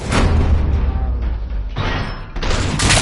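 A loud door breach blast in RoboCop: Rogue City, a dense burst of crashing, shattering noise that dips briefly and then surges again, with no voices.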